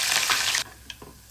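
Cut green chillies drop into hot oil for a potato chevdo, giving a loud burst of sizzling spatter for about half a second before it falls to a quiet crackle with a small click.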